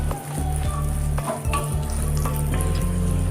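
Onions sautéing in oil in a pan for a village-style Madurai sardine fish curry, giving a steady close sizzle and crackle with faint clinks of stirring throughout.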